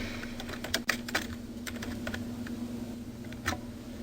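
Steady typing on a computer keyboard, a quiet run of clicking keystrokes at close range with occasional louder taps, over a low hum and no talk.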